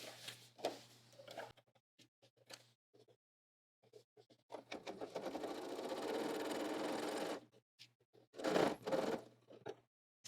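A sewing machine stitches a pocket in place, with short taps and clicks at first, then a steady run of several seconds, then a few brief closing bursts.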